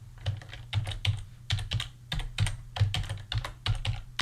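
Typing on a computer keyboard while coding a groceries list app, close and clear keystrokes in quick irregular bursts with short pauses between runs.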